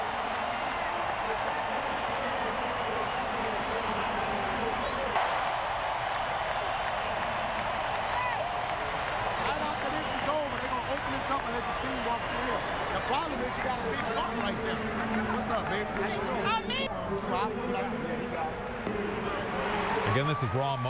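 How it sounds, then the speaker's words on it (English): Broad, continuous crowd roar at a football conference championship game, a steady wash of distant voices and cheering that holds at one level throughout, with faint whistles and shouts poking through. "And we'll just listen a bit to the crowd."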